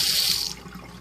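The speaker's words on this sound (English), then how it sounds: "and we've got hot water on this side." A Moen faucet runs hot water into a sink, a close rushing splash that fades after about half a second to a quieter trickle.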